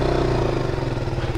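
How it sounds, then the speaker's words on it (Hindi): A motorcycle engine, started cold on a mountain road near Manali, runs loud and close with a steady low rumble, then its pitch climbs as it revs. "तो बाइक को करते हैं अब कोल स्टार्ट और चलते हैं फिर यहाँ से"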